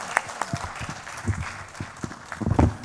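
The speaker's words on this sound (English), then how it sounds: "I actually think our high-level panel deserves a much bigger applause, don't you?" Audience applause for a high-level panel closes a conflict prevention and sustainable peace forum, scattered and moderate claps rising toward a louder cluster at the end.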